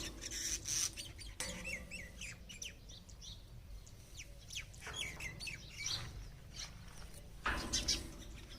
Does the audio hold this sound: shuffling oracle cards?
no